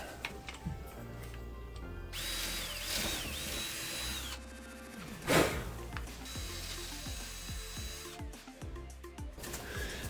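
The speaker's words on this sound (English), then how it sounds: "I can just drill out my holes." Power drill boring holes, likely through a drop ceiling for a shelf, with several whining motor bursts of rising and falling pitch, brief pauses and a sharp knock partway through, close and fairly quiet.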